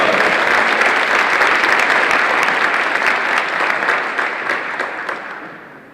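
Audience applause for award winners at a school awards ceremony honoring class favorites, a dense, loud wash of many hands clapping that fades out over the final seconds.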